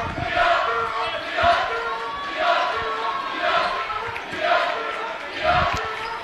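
A rowdy home crowd of Trinity Academy fans at a high school sub-state basketball game against Mulvane roars in rhythmic surges, about once a second, like chanted cheers, with commentary running underneath.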